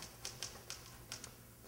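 An old typewriter with a loud bell, once used at prize fights, heard as a sparse series of sharp, faint clacking key strikes spaced irregularly over a low background hum.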